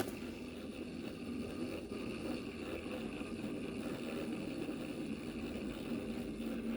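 A small motor spinning a 3D-printed rotor gives off a faint, steady whirring hum with a low drone, alone and without clear change over the few seconds.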